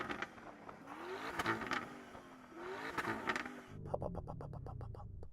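A Lamborghini Urus engine revs repeatedly in rising bursts, then settles into a rapid rattling rhythm against limiter-like pulses.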